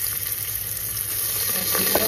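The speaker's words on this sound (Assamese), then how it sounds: "এনেকৈ গৰম ঘিউখিনিৰ ওপৰত ভাজি অকণমান।" Rice grains frying in hot cow ghee in a pan give a steady, close sizzle throughout, with a few slightly louder crackles and stirring sounds toward the end.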